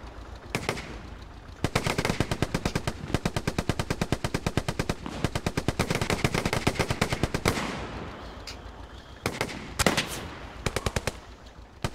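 Rapid automatic gunfire crackles through a Hell Let Loose battle, long sustained bursts of evenly spaced shots with brief pauses between volleys and a final scattered few rounds, loud and close with no voices.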